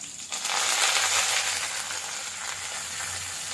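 Onion, green chilli and curry leaves hit hot oil for a tempering, giving a steady, close, broadband sizzle and crackle that swells in the first half-second and holds without talk.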